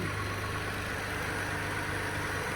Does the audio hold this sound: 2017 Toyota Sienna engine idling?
yes